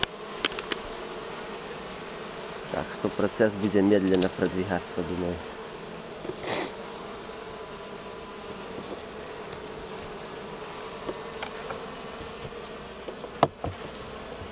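Buckfast honeybees hum steadily around an opened hive during a poor-season honey harvest, a constant drone with brief louder bursts as frames are handled, while someone talks now and then.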